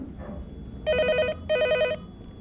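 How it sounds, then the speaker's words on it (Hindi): An old telephone bell rings in two short electric bursts separated by a brief pause, sounding clearly over a quiet room. "टेलीफोन की घंटी बज रही है"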